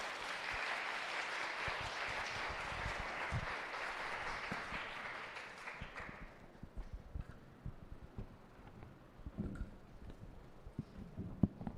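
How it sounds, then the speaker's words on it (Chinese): A church congregation at a Sunday service bursts into sustained applause that fades into scattered, trailing claps. "所以这时候呢，我们一起拍手来欢迎这5位年轻人一起到台上来"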